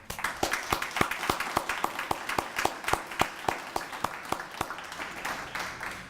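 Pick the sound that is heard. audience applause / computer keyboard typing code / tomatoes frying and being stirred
audience applause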